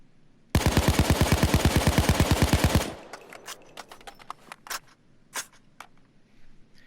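Colt 727 (AMCAR) assault rifle fired in the video game Payday 2: a loud, fast, even full-auto burst of about two and a half seconds, followed by scattered light clinks and clicks.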